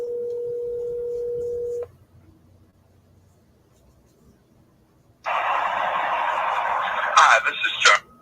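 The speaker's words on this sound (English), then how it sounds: "if you're not triple dialing, are you even really calling them?" A telephone is dialed: a steady tone for a couple of seconds, a quiet pause, then a loud buzzy ringback or line tone with brief bursts near the end, heard alone with no talking.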